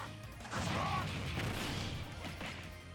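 Heavy smash attacks land in Super Smash Bros. Ultimate against an armored opponent, a dense burst of crashing impacts and swooshes over game music, loud and busy before easing off slightly.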